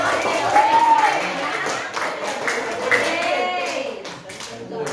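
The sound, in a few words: clapping for group 4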